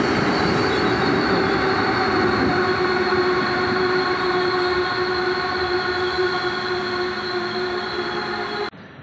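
The Intercity Chełmoński passenger train from Świnoujście to Kraków Główny pulls into Wrocław Główny station with a loud, steady rumble, squealing wheels and rail clatter, and the sound cuts off abruptly near the end.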